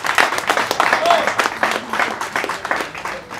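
An audience at a Cafétéria stage show applauds with scattered, rhythmic claps, fairly close and lively, while a voice talks over the clapping.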